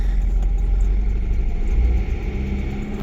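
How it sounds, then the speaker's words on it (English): A car engine with a misfire running steadily at a low rumble, roughly idling and then given a bit more gas, heard close and alone without talk. "You can hear it's got a misfiring for sure, but when you give it more gas"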